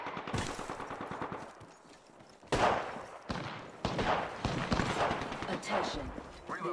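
Rapid automatic gunfire from the Apex Legends video game crackles in bursts with sharp single shots, fairly loud, mixed with game callout voices speaking over the action.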